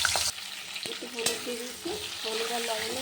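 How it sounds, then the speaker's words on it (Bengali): Potatoes and green banana sizzle steadily as they fry in hot oil, with occasional clinks and scrapes from stirring. "আলুটা কাঁচকলাটা ভেজে দিয়েছি"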